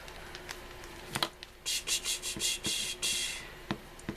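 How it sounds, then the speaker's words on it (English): A screw-on lid being twisted onto an altered craft container, heard as a run of short scraping, rubbing turns in quick succession, close and fairly quiet with no talk. "the top just screws right on. Yeah, and it just screws back on"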